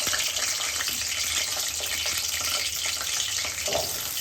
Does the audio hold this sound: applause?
no